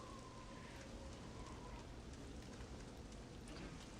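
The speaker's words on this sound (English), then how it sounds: "I like the rain in this game. Very old school PC game rain." Steady, faint rain hiss from the old PC game Aliens vs. Predator 2, a continuous wash of drops with no break and no talking.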